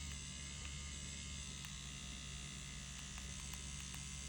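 A Dragonhawk Mast Racer Pro tattoo machine with a 13 round magnum needle runs slowed down for soft shading, giving a steady close electric buzz and hum with faint ticks and no talking.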